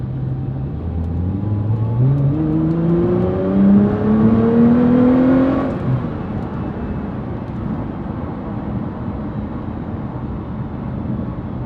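A 2013 Nissan GT-R accelerating hard, its engine note climbing steeply through the revs, loud and close, then cutting off into a lower cruising rumble with no talking.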